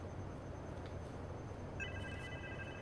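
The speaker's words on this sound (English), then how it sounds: "Call him to have his phone ring so I can hear it." A phone rings in the Spider-Man 2 video game, a faint electronic ringtone starting partway through over a low steady background hum, with no talk.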